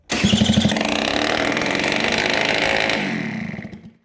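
A Piaggio Zip scooter with a Malossi 70cc cylinder kit and no exhaust cranks and catches, then runs at a loud, raw, buzzing rattle for a few seconds before winding down and cutting off.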